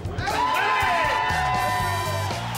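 Arena crowd of basketball fans screaming and cheering, a loud sustained roar with whoops and high shouts rising above a dense wall of voices, near and continuous throughout.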